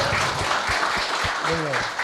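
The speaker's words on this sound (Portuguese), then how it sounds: "uma salva de palmas para o Zadra" An audience at a Senepol cattle breeders' gathering claps in a moderate, fairly even burst, with a voice speaking briefly over the applause.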